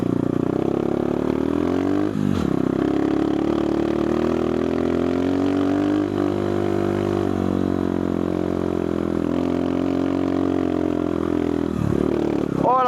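A 2026 CRZ ERZ 150 dirt bike ridden off-road on a nature trail over roots, its single engine droning steadily up close with brief revs and shifts in pitch throughout.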